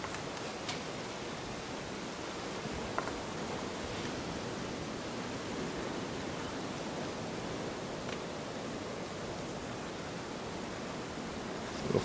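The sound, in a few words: battered shrimp frying in a pan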